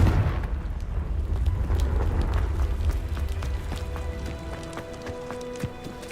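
A Confringo fire spell blast in the Hogwarts Legacy video game: a heavy rumbling explosion that booms loudest at the start and slowly decays into crackling debris and scattered pings, with no speech.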